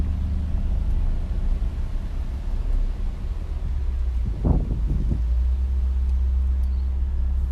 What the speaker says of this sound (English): Even just idling this car sounds beastly.